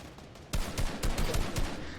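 Gunfire in a Fortnite trios playoff match: a quick string of loud, punchy shots cracks out in uneven bursts after a brief quiet start, with no talking.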